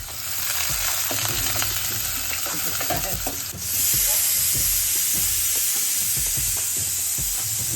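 Onions and green chilies, along with asafoetida and dried red chilies, fry in a kadhai with a loud, continuous sizzle and hiss. The sound grows louder partway through, and stirring scrapes and clatters at close range. No one speaks.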